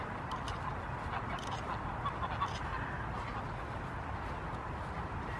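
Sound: geese honking

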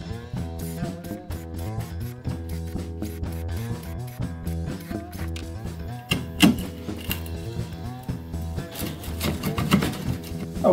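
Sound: drilling a series of holes in wood for wire channel

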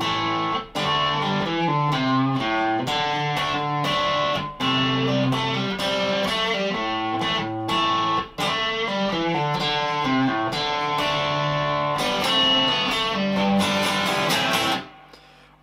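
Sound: electric guitar intro with effects

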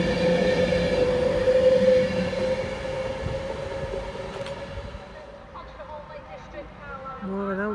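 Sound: train at Wigan North Western station

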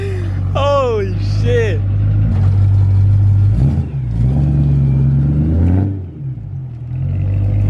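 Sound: BMW E92 M3 engine revving with modified exhaust

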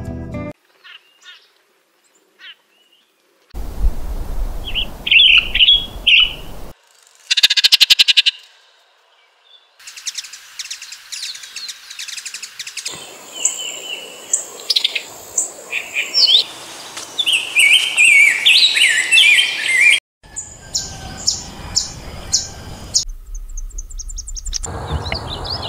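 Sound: migratory birds singing in El Salvador

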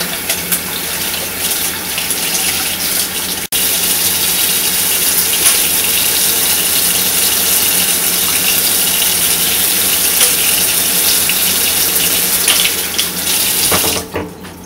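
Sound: water running from kitchen tap while peeling egg

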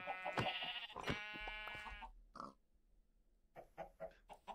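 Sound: sheep bleating in a video game farm

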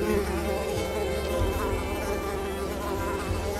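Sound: mosquitoes buzzing in Unravel video game

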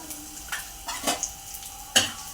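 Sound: whole spices sautéing in hot oil in a wok

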